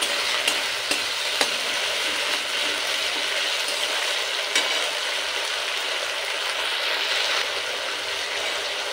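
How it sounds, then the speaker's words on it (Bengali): Ginger-garlic paste and masala stir-fry for a potato shrimp kosha with a loud, continuous sizzle, while occasional scrapes and taps of a spatula against the pan cut through. "এবার আদা রসুন দেওয়ার পরে মশলাটা খুব ভালোভাবে কষিয়ে নেব"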